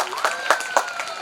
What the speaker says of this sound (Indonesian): kita berikan tepuk tangan kepada Ananda Fasawa Mahfuzah